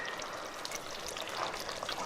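Tamarind prawn sauce (Nyonya assam style) simmering in a pot, giving a steady, close, soft bubbling and sputtering hiss that runs unbroken for two seconds without talk.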